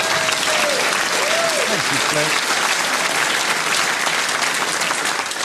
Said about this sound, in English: Oh, a round of applause for that.